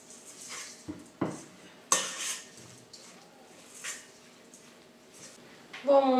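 Sarmale meat filling seasoned with pepper is worked in a bowl, giving soft squelching and a few sharp clinks of a utensil against the dish, with quiet pauses between; no one speaks.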